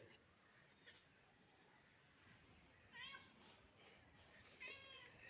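A cat meows twice at a Konkan temple site, two short faint mewing calls a couple of seconds apart over a steady hiss of insects and outdoor ambience.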